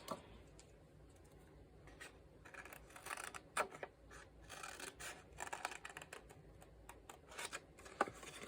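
Scissors cutting a small paper butterfly out of a craft card, quiet close snips and paper rustles arriving in irregular bursts.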